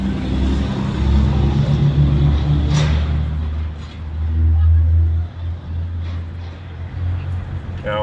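A car or truck rolls by on a country road near Grafton Common, a low, steady rumble that swells and then fades over several seconds while someone nearby talks.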